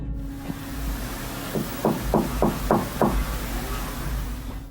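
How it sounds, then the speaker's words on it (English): A series of five or six evenly spaced knocks on a painted-over passageway, muffled thuds against a steady low background hum, moderately close and alone. "The knocking sounds polite yet urgent, definitely human."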